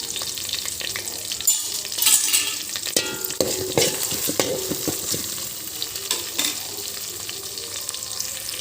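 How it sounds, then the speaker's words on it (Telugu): Green chillies and carrots fry in a pan for khichdi, with a crackling sizzle and repeated scraping stirs of a utensil, close and clear without any talk. "వేగనిద్దామండి వీటిని క్యారెట్ కూడా వేసుకున్నానండి"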